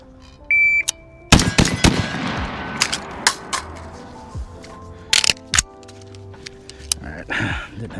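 A Glock 45 pistol and an 11.5-inch SOLGW L89 carbine are fired in a timed drill on a shooting range. Sharp, loud, close single shots come in quick pairs and groups, with a short timer beep at the start.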